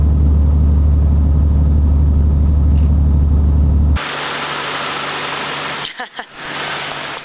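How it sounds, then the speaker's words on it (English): A small aircraft engine during takeoff: a loud, steady drone with deep rumble cuts abruptly into a brighter, broadband roar, with a brief dip and sputter near the end. "I'm just going to take off in front of you if that's alright."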